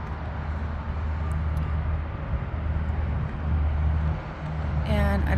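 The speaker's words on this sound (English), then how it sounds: "the highway is right behind these homes here, and that is Route 20. So you will hear that traffic" Route 20 highway traffic runs behind a row of homes on a cul-de-sac, a constant low roadway rumble that swells briefly near the end, with a faint chirp at the close.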